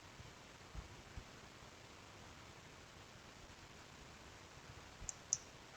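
Two quick computer mouse clicks come near the end, small and close, over a faint steady hiss in a quiet room. A couple of softer ticks sound earlier.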